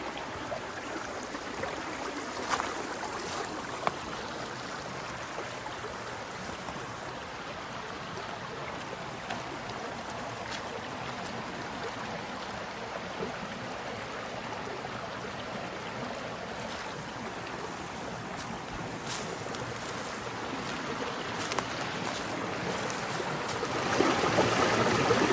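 Steady rushing water of a stream near a Connecticut waterfall, a continuous broadband wash heard close by, alone and without talk, growing slightly louder at the end as the camera moves nearer.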